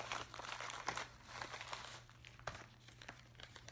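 Paper packaging from a lip gel order crinkles and rustles quietly and steadily, with a few sharper crackles and tearing-like bursts.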